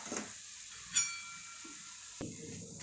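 Fine motichoor boondi batter frying in hot oil: a steady, quiet high sizzle and hiss, with a couple of faint clinks of a utensil and no voices.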